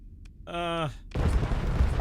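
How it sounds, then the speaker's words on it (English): Explosions and weapons fire from the space combat game Starsector, a loud dense burst of blasts and rumbling that swells after a brief harmonic tone and keeps going to the end. "It's just a lot of explosions."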